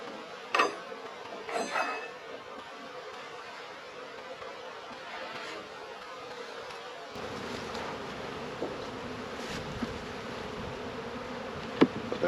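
Honeybees hum in a continuous close drone at an open hive during a cold spring split, with occasional clicks and knocks of frames and hive parts, no voices.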